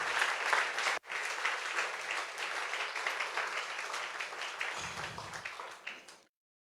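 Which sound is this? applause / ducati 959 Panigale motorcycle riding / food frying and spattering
applause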